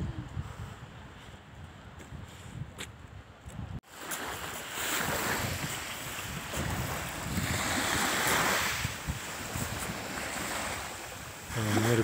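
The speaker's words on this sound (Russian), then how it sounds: "Бескрайнее море." Sea waves wash onto a dark sand beach at Kobuleti, Adjara, Georgia, on a cool April day, a steady broad surf roar swelling after a brief bump, with gusts of wind buffeting the microphone and no talk.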